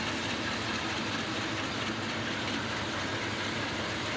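An Amtrak Auto Train on the rails near Sanford, Florida: a continuous broadband rumble and roar of rolling cars, steady and fairly distant, with no voices.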